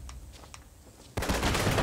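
Pistol gunfire in the Xbox One MOBA Gigantic: a few faint pops give way to a sudden loud, continuous burst of rapid shots that runs to the end.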